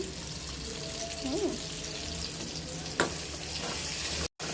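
Spices fry (bhuna) in a small pan for a chicken giblet and liver dish, giving a constant close sizzle with stirring, a brief voice murmur and a sharp clack near the end.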